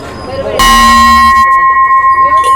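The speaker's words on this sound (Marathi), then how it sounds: "इकडे असा मंदिराचा घंटा देखील उपलब्ध आहे धार्मिक कार्यासाठी किंवा मंदिरासाठी हा घंटा वापरतात" A single loud strike of a brass temple bell rings out with a bright metallic clang, then hums and slowly decays with a pulsing shimmer.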